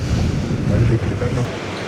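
Wind gusting along Benidorm beach in winter, a steady broad roar with buffeting against the microphone, the ocean surf blending in underneath throughout the short stretch.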